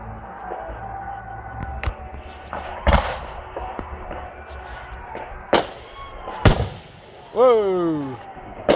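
Bonfire Night fireworks display at a discovery park in Coalville, Leicestershire, 2011: distant, irregular thuds and sharp cracks from launching shells, with one rising whistling rocket near the end, under a murmuring crowd.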